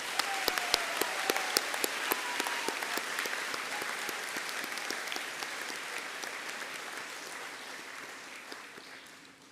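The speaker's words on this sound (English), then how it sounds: "Let's have a round of applause for our final row of graduates." Applause for the final row of graduates at a high school graduation ceremony, sparse, crisp individual claps over a softer wash of clapping that slowly fades, heard at a moderate distance.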